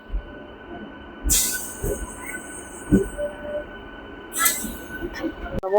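A train rolls past close by on a Karnataka line, a steady rumble broken by sharp bursts of high metallic wheel squeal and a few clanks.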